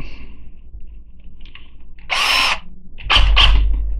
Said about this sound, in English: So you're gonna see a lot of people using their drill.